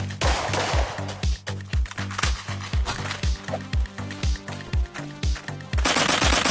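Rapid automatic gunfire from the Blockpost shooter game crackles in close, sharp bursts with a steady rhythmic pattern, loud and dominant, broken by brief pauses before a final dense burst.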